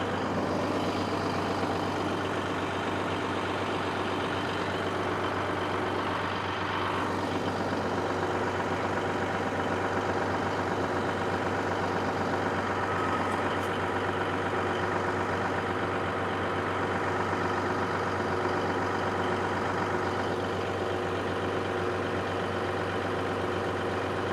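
An abandoned Caterpillar SS250 soil stabilizer's diesel engine runs steadily at idle, a continuous low rumbling drone that holds even throughout with no talking.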